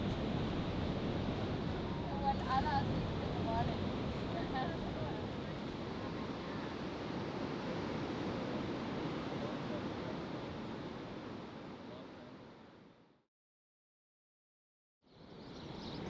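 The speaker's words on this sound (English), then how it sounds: "I just woke up to the sound of the sea" Broadband seaside surf on the coast wells up steadily with a windy, rushing texture, continuous and fairly loud for about thirteen seconds before cutting to silence, then returning briefly.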